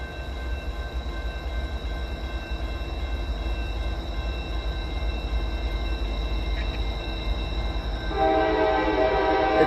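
Freight train with foreign power locomotives going into emergency, a steady loud rumble of rolling cars with sustained tonal squeal, swelling louder with harsher grinding near the end.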